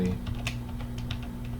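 Quick, light clicking of a computer keyboard as keys are tapped to turn a virtual Rubik's cube, an uneven run of soft close taps with brief pauses between bursts.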